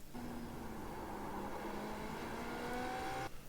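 A race car engine on throttle in the iRacing sim drones steadily and loud for about three seconds, its pitch gradually sliding, before cutting off abruptly near the end.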